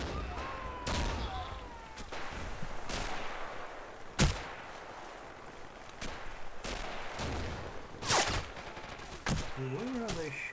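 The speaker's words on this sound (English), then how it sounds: "Where are they shooting from?" Gunfire in the video game Mare Nostrum: scattered single shots and short volleys at irregular intervals, some sharp and near, others more distant, over a constant noisy background. No one speaks.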